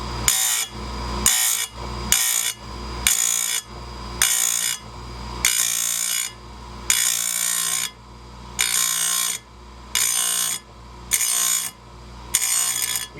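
A chainsaw chain cutter being sharpened on a grinder, roughly ten short bursts of harsh high grinding in a steady rhythm, each lasting about a second with brief gaps between, close and loud over a constant motor hum.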